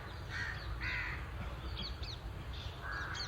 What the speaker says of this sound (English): If you want to listen to those crows who are going to bed tonight